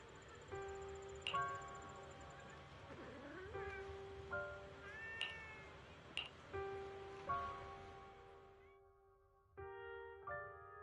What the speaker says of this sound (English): there's a cat over there.